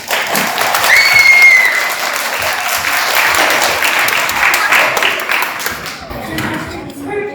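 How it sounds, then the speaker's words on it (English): An audience at a children's stage performance breaks into loud, sustained applause, with a brief whistle early on and a few thumps, before the clapping fades out near the end. "Claude heard applause from the audience"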